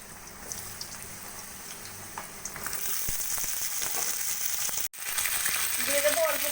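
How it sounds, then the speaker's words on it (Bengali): Pointed gourd (potol) pieces fry in hot oil in a kadai wok with a steady, close sizzle. The crackle grows louder and denser partway through, broken by a brief clatter. "এবার আমি প্রথমে পটলগুলোকে ভেজে নেব"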